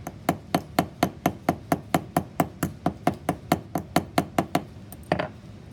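A hammer strikes the center of a piece of wire in a quick, steady rhythm, about twenty sharp metallic taps in a row. The blows are close and clear, and a brief scrape comes near the end.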